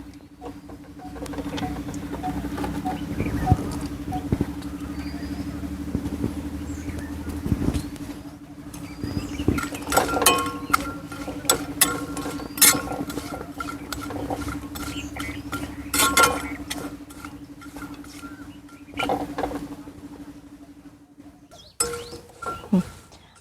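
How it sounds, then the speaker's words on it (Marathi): Sliced coconut roasting in a dry pan for a masala, a soft, steady patter of pieces shifting against the hot metal with occasional light clinks of a spatula, close and continuous with no talk. "तर हे खोबरं भाजून घेऊयात."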